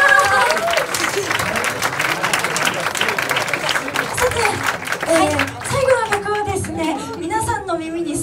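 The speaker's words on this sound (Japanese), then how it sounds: "今日一番の拍手をお願 いいたします" An audience applauds at a live DJ event in a club, giving loud sustained clapping and crowd noise while people talk and call out over it.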